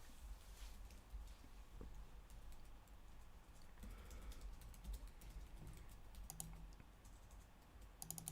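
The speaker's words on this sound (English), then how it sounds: "I am literally typing that to you." Faint, rapid clicking of keys on a computer keyboard in a public room, quiet and continuous over a low background hum.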